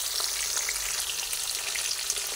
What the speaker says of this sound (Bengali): হলুদ গুঁড়ো দিয়ে পটলগুলোকে আমি ভেজে নিচ্ছি সুন্দরভাবে।